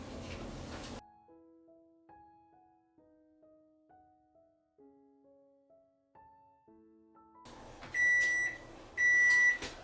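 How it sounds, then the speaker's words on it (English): An oven timer beeps in two loud, sustained bursts near the end, following a stretch of soft musical tones. "Okay, there's my oven timer."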